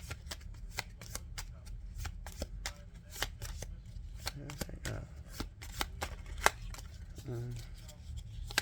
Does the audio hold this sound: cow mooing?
no